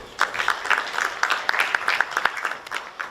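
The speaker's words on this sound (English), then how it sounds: "Applaudissements, s'il vous plaît." A crowd applauds steadily at a forum on women in sport, with dense, sustained clapping, a few louder claps standing out near the front.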